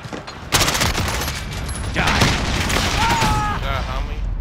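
Gunfire from a Call of Duty: Modern Warfare match bursts out in a dense, loud fusillade after a brief lull, continuing in a sustained rattle of shots and booms mixed with game effects.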